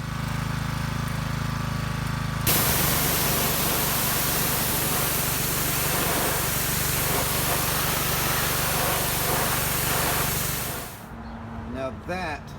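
A pressure washer blasts a motorcycle tire at 3200 PSI, a loud, steady broadband hiss running for about eight seconds before it cuts off, with an engine hum underneath and brief talk near the end.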